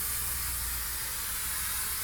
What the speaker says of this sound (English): Spray glue along the front like this, and around, just around to the outside edge